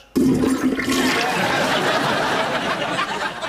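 A toilet flushes with a sudden loud rush of water that swirls and drains steadily, close by.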